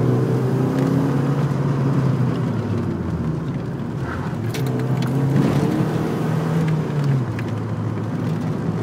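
Nissan 240SX driving and drifting on a road, engine revving and rising and falling continuously at moderate level, with a steady rumble and occasional sharper bursts, no voices.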